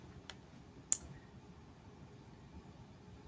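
Two sharp computer mouse clicks, one faint and one louder a moment later, then quiet room hiss.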